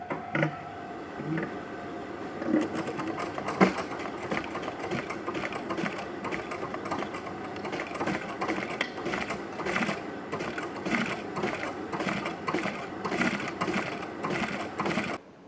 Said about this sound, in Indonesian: sekarang waktunya kita untuk menjahit